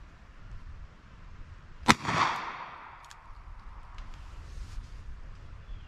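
A single sharp handgun shot fired at water, followed a moment later by a short splashy burst of impact, with a faint outdoor background and no talk.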